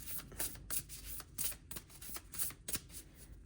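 A deck of cards gets shuffled up close in a series of quick riffling bursts, each a crisp flutter of snapping card edges, repeated about eight times in an uneven rhythm with no talking.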